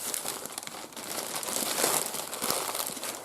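A cardboard parcel is torn open by hand without scissors, producing continuous close crinkling and crumpling with sharper tearing bursts of paper and tape.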